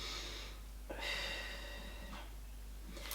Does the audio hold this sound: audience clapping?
no